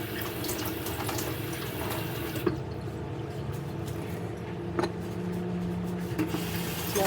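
Tap water runs steadily into a sink as muddy leeks are rinsed for a farmhouse fridge soup, a continuous close splashing wash with a few brief knocks and clunks, no talking.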